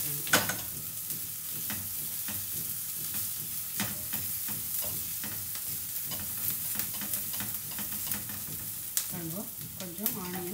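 Onions frying with crushed ginger and garlic in a pan, a steady close sizzle broken by frequent stirring scrapes and taps throughout, with no talking.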